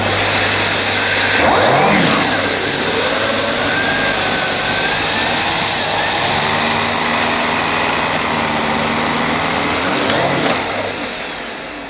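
Numatic Henry HVA 160-11 vacuum cleaner with turbo nozzle on living room carpet, a loud continuous motor roar with brush whir close by. It swells as the nozzle is pushed and pulled, with no speech.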